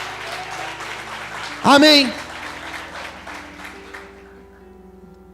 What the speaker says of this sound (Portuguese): Quem crê, aplauda, exalte e glorifique ao Senhor nessa noite